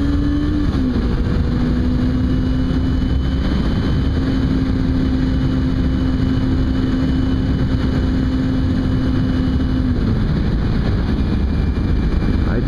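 A 250cc beginner motorcycle held high in its rev range, a steady loud engine drone with wind rush running unbroken throughout, ridden on rough city roads.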